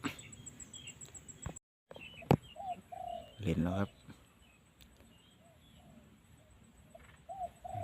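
Soft bird calls, including low cooing notes, repeat at a distance amid quiet outdoor background, with someone speaking briefly near the start.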